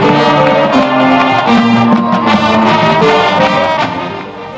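A high school marching band plays loudly at a football game, with brass and percussion sounding together in a full, steady passage that eases slightly at the end.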